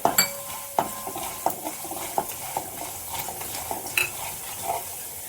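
Peanuts and chana dal roast in a pan for homemade puliyogare powder, stirred so the pieces rattle and scrape against the metal in a run of short clinks over a faint, steady sizzle.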